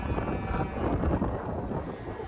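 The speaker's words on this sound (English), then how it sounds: "And it's windy." Wind gusting across an open farm field where cattle are kept, a continuous loud rumbling buffet against the microphone with no other clear sounds.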